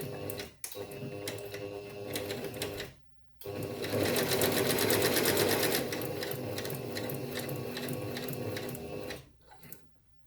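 A clunky domestic sewing machine in need of a service stitches around a paper collage at a desk: a loud close mechanical whirr with rapid rhythmic clatter, in two runs separated by brief pauses, with no talking.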